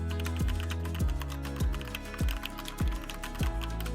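Brown-switch mechanical keyboard keys clacking in a steady burst of typing, with heavier thuds recurring roughly every half second, close and clear with no talk.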